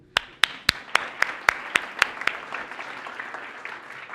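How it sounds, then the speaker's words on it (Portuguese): Audience applause at a lecture: a run of sharp, loud claps in the first two seconds or so, then thinning into softer scattered clapping that fades out. "Uma salva de palmas para o Vini."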